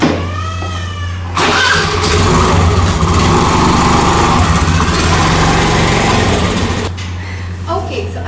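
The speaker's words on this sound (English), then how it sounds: "I need to remove this scooty from here" A small scooter engine putters and revs steadily near the microphone for several seconds while the scooter is wheeled out, its buzzing drone cutting off abruptly near the end.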